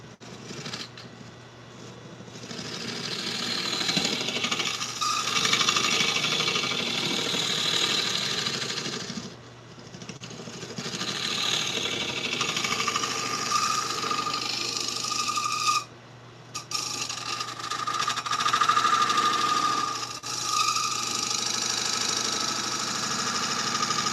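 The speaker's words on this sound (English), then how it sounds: "this is where we get the scraper. We'll just do a little bit of scraping" A lathe scraper works steadily across a spinning wooden winged bowl, giving a continuous rough scraping whir that drops out briefly a few times, close and loud with no talking.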